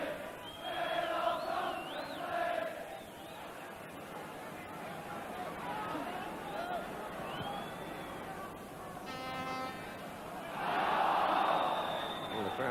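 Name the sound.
football stadium crowd appealing for handball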